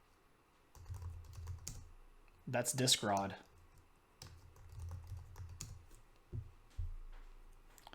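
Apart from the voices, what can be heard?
typing on a computer keyboard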